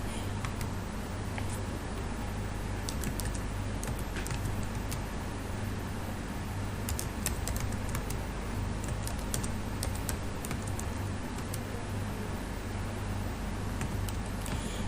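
Computer keyboard keys pressed in a steady run of quick clicks while navigating a spreadsheet, close and fairly loud over a constant low hum, no talk.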